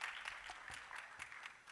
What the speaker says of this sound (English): A resounding applause is due for the esteemed panel of judges.